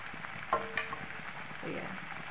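Yogurt spooned into tomatoes frying in hot oil, then stirred: a steady low sizzle with two sharp splashy bursts as it lands, followed by soft scraping stirs.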